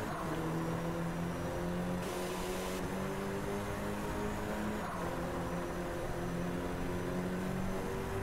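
Race car engine in the Driveclub racing game drones steadily and loudly throughout, with a brief rise in intensity partway through, heard alone without talk.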